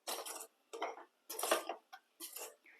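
Masala being stirred into a prawn pickle with a spoon, a run of close, moderately loud scraping and clinking bursts separated by short pauses.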